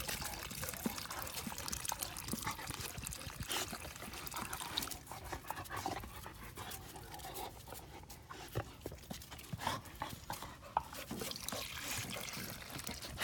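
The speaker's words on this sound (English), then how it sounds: "we're going to be watering the plant with the water" Saved shower water is poured from a container onto a dry plant, giving a steady trickling, splashing stream that runs throughout at close range, with faint background noise.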